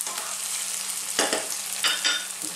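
Garlic and ginger stir-frying in a pan over high heat: a steady soft sizzle broken by a few louder scraping stirs, with no talking.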